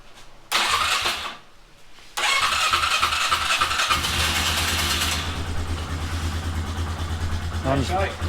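A Polaris 500 snowmobile engine with rebuilt carbs cranks, fires and catches, then settles into a loud, steady idle close by, with a voice speaking briefly during the cranking.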